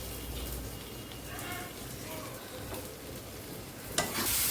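Taro (kochu) ghonto being fried and stirred in a pan at high heat: a steady soft sizzle with scraping stir sounds throughout and a sharper clatter near the end, with speech present in the background.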